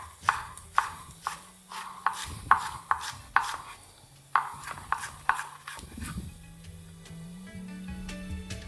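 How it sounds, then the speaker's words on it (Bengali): A knife chops the white part of spring onions on a cutting board for a vegetable soup, a run of sharp, evenly spaced cuts close up that slows and softens toward the end, with no talking. "পেঁয়াজ পাতার এই যে সাদা অংশটাকে প্রথমে আপনারা এইভাবে ছোটো ছোটো করে চপ করে নিন।"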